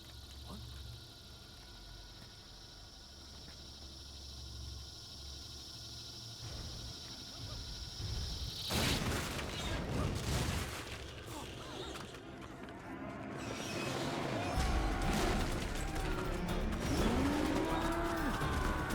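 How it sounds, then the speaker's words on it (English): Cow mooing in the Metal Gear Solid 4 video game, a low drawn-out moo amid game sound effects and rumbling, moderately loud, with creaks and a rising bellow near the end. "that sounds like a cow"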